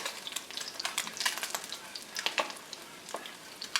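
Creamy polenta with melted mascarpone bubbles and spits in a pot while a spoon stirs it, making soft irregular wet pops and scrapes, quiet and close, with no talking.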